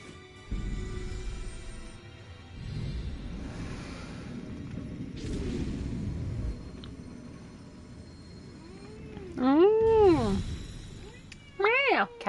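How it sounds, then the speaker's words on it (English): A cat meows twice near the end, a clear rising-and-falling call followed by a shorter one, after a stretch of whooshing game ambience and someone talking, in a Final Fantasy XIV scene. "Meow. Cat's back."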